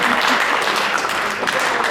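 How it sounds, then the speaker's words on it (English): A room full of people at a fraternity gathering bursts into a big round of applause, dense clapping at a fairly loud, steady level for the whole stretch. "Give them a big round of applause."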